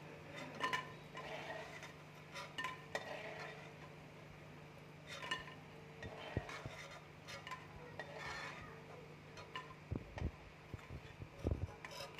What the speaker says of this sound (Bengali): এবার আমি প্লেটের মধ্যে তুলে নিচ্ছি।